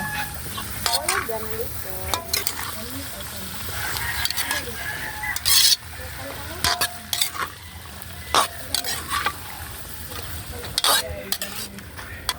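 Garden vegetables stirred and fried in a pan, with repeated scraping stirs and clanks over a constant sizzle. A rooster crows several times in the background.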